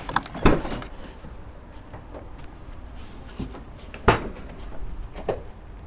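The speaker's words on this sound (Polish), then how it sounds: "Tylne drzwi otwierają pod kątem 45 lub 90 stopni" Metallic clunks and latch clicks as the rear cargo doors of a 2021 Volkswagen Caddy Cargo 2.0 TDI van are opened, several sharp knocks separated by quieter handling sounds.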